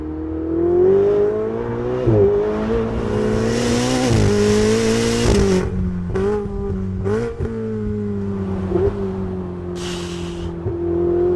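A Ferrari accelerating hard, its engine climbing in pitch through several gear changes with short dips between shifts, loud and close from inside the car, with a whoosh of air in the background.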